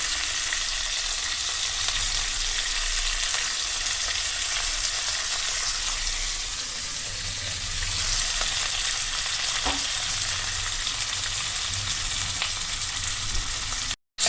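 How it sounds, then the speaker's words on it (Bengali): Dried red chillies and coriander leaves fry in a pan, producing a long, even, close sizzle with occasional stirring scrapes and no talking. "এবার এইটাকে ভালো করে ভেজে নিচ্ছি"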